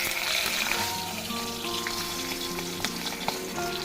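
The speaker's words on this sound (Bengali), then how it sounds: "এই মাছটা ভাজতে দিয়ে চলে যাবো। একটু ফাটে, এটা পাঙাশ মাছ।" Pangas fish frying in hot oil, a steady close sizzle with occasional sharp spluttering pops and crackles throughout.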